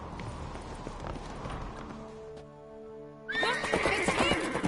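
A horse in The Witcher 3: Wild Hunt whinnies in a drawn-out, harmonic call, then louder movement and hoof-like clatter follow, with no talking.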